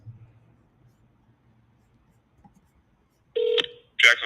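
Telephone keypad tones selecting a menu option on a call to a sheriff's office line: two short electronic beeps near the end after near silence with faint low murmur.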